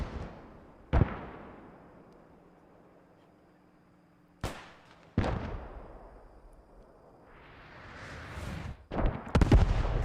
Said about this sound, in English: I imagine that is Allied artillery